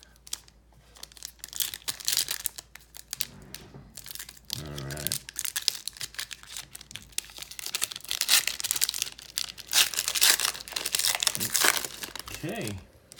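NBA Prizm trading card packs from a blaster box are torn open and handled, producing loud, close crinkling and ripping of foil wrappers in continuous bursts, with a person talking at times in between.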